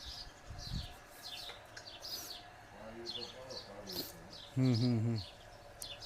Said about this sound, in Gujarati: આ વરખડીનું વૃક્ષ જે છે ને, એની આજુબાજુ જે કલબલાટ તે જાય એમાં સાંભળો